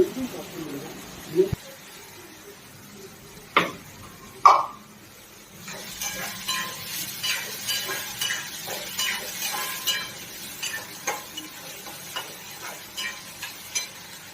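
Methi (fenugreek leaf) vegetable frying in a pan gives a soft steady sizzle, broken by sharp spoon clinks and scraping strokes as it is stirred, with a few louder knocks early on.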